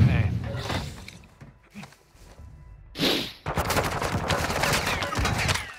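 Gunfire in Call of Duty: Modern Warfare II, with bursts of shots and rapid firing that grow dense in the second half, mixed with game noise and a player talking over it.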